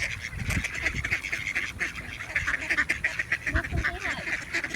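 Ducks quack continuously in a noisy flock, many overlapping calls close by with a steady background murmur.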